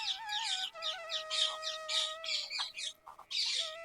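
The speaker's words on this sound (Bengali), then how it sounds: "দেখুন ভিতরে ওই যে টিয়া পাখি রয়েছে" Parrots call from inside an enclosure at a forest wildlife sanctuary, a busy run of sharp, squawking and chirping calls in quick repeated bursts, fairly close and clear over a quiet background.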